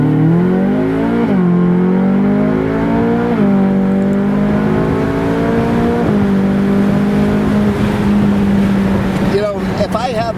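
Ferrari California driving with the top down, its engine note rising and stepping through several gear changes in strong, continuous tones, loud and close with wind noise around it, and a voice talking over it.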